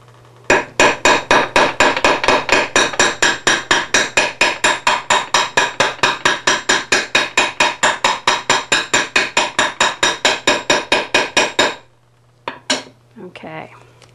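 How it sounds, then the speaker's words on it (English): A utility hammer pounds metal for a jewelry pendant on a bench block in a fast, steady run of dozens of sharp ringing strikes, close and loud, then stops. "take my utility hammer and pound it thoroughly"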